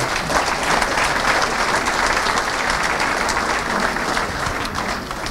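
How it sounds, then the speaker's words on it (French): Sustained, loud applause from an audience after a presentation, dense clapping that holds steady and fades slightly toward the end. "déjà on peut les applaudir"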